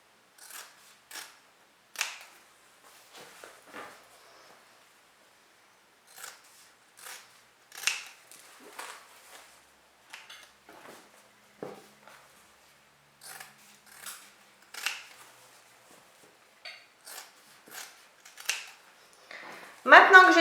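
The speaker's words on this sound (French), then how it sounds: "Et maintenant, je vais découper donc mes deux angles." Scissors snip the corners off pieces of fabric for a sewn multi-pouch, making a string of short, crisp cuts spaced irregularly across a quiet room, close and fairly soft, with a voice briefly speaking near the end.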